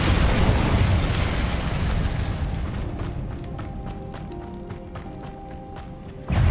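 A Bombarda spell explodes in Hogwarts Legacy, inside a cave: a loud, broad blast rumbles for a couple of seconds, then fades into a lower hum with scattered sharp clicks before another loud surge at the very end.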